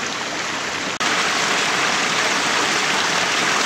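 Water pours steadily down the spillways at Kaydon Falls in Stockton, California, a loud, continuous rushing roar with no voices over it and only a very brief dip near the start.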